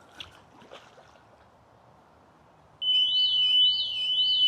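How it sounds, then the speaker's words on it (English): A few faint splashes in a pool, then a Hovara P501 pool alarm starts abruptly, a loud warbling siren-like tone that rises and falls repeatedly. "The alarm is sounding on the unit itself as well as inside"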